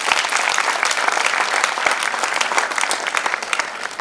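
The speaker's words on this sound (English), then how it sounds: "I think all you students deserve a huge round of applause for yourselves." An audience applauds students at a Rotary event, a dense, loud burst of clapping from many hands that carries on steadily throughout without any speech over it.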